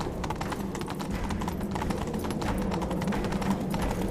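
Roach, the horse in The Witcher 3: Wild Hunt, gallops with rapid, steady hoofbeats close by over a constant rumble of movement.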